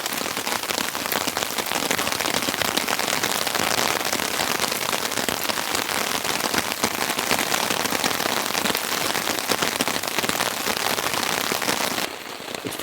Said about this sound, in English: Pretty noisy with the rain.